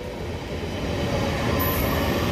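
A superfast express train rumbles past close by on the Calcutta–Madras main line, a dense rolling roar of wheels on track that swells slightly, with a thin high squeal near the end.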